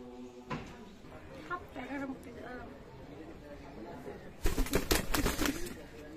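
Domestic pigeons coo softly beneath ongoing chatter from women nearby, then a louder burst of clattering and rustling takes over toward the end.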